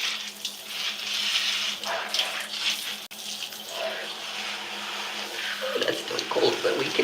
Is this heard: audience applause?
no